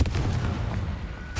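A Confringo fire spell bursts in Hogwarts Legacy, a dense, continuous low rumbling boom lasting the whole moment, loud and close with a slight renewed swell at the end.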